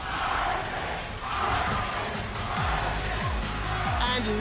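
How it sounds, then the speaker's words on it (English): Fans in an esports arena at a League of Legends Worlds group-stage match cheer and roar as a dense, sustained crowd din, loud and continuous from start to finish with no clear voice standing out. "listen to the fans in the crowd"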